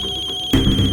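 A mobile phone ringtone sounds as a steady, pulsing electronic tone, then a louder burst of dramatic sound swells in at the halfway point and partly covers it.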